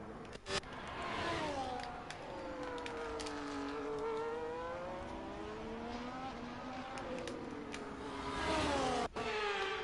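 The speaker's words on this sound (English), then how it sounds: "I don't know if the engine sounds are delayed as well on the replays." Formula 1 race car engines whine and rise in pitch during an F1 24 replay at the Saudi Arabian circuit, several cars revving and shifting continuously at moderate distance, with sharp clicks near the start and end.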